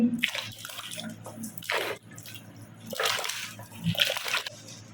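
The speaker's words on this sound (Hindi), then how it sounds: "ये पोटली इस पानी में डाल देंगे। ये 12 अदद पाए हैं, ये इसमें डालेंगे।" A muslin pouch of spices and a dozen trotters drop into a pot of water for paya, giving several splashes and drips spread over a few seconds.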